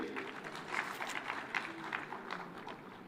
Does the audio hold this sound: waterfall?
no